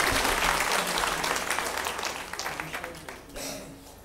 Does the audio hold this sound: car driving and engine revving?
no